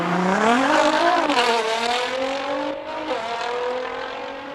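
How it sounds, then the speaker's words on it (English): An Alfa Romeo Giulia Quadrifoglio races up a Cape Town hill climb course at a speed classic, its engine note loud and climbing through the gears, rising in pitch, dropping at each upshift, then pulling hard again. "Now let's have a look at Art driving the Giulia Quadrifoglio."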